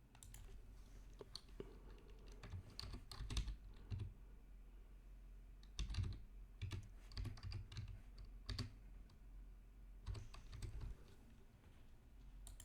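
Close computer keyboard typing in several quick bursts of key presses separated by short pauses, quiet and alone with no talk.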